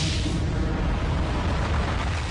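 A deep, continuous rumbling roar of a cosmic explosion representing the Big Bang, loud and steady throughout with a heavy low-end boom and hissing wash on top.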